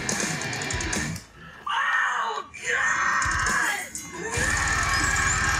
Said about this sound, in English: Oh, God! I just love his scream